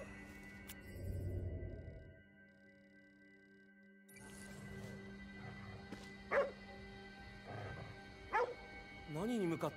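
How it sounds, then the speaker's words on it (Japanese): Dog barking in Ghostwire: Tokyo, a few sharp yips and barks in the second half over a quiet game ambience with a low rumble, with a couple of short bursts of sound near the start and end. "何に向かって吠えてるんだ"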